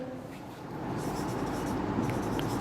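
Marker or chalk writing on a board during an accounting lecture on a calculation, a steady scratchy stroking sound that continues closely and evenly throughout.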